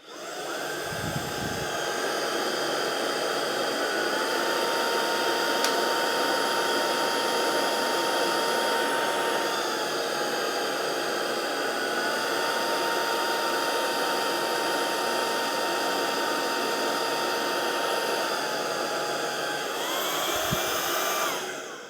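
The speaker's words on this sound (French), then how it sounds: "on entend bien le moteur qui augmente sa puissance quand je mets le pied sur la brosse" A Proscenic P11 Smart cordless vacuum cleaner runs with a loud steady motor whine, its pitch rising and shifting as a foot presses on the brush to add resistance, then settling again, with brief thumps at the start and end.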